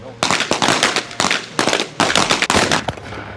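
Rapid overlapping gunfire crackles at an Army Reserve shooting competition, dense loud volleys in several bursts close by.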